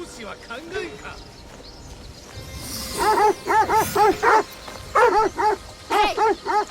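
Dogs in Assassin's Creed Shadows give loud, close, repeated yips and whimpers in quick bursts, grouped in short runs after a quieter stretch of game sounds.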